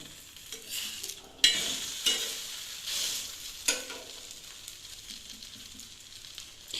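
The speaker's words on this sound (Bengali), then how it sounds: "দুদিকটা একটু ভালো করে ভেজে" Patisapta pitha, a rolled Bengali crepe, frying in a pan, with a steady close sizzle broken by several spatula scrapes and taps.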